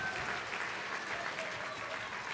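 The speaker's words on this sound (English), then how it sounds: "So we give them all a round of applause" Steady, full audience applause fills a hall at the Ashdown Radio Community Awards 2025 ceremony, a dense even wash of many hands clapping throughout with no break.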